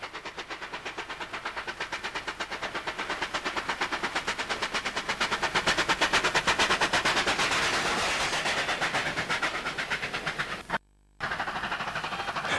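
Steam locomotive 3813 hauls the northbound Newcastle Flyer in the mid-1960s, a loud, rapid, steady exhaust beat with rolling clatter close by, rising and then easing, with a brief dropout near the end.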